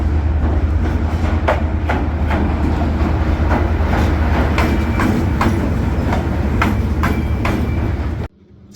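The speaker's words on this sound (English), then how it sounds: "Train SE1 is arriving" Train SE1 rolls into a station in Vietnam, a loud, steady rumble with rhythmic clickety-clack of wheels over rail joints, cutting off abruptly near the end.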